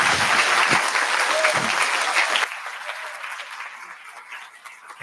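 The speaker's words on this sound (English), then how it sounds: "Everybody, let's give Bill another round of applause." A live audience gives an author another round of applause, a loud, dense burst of many hands clapping that drops off sharply halfway through and trails into scattered, softer claps.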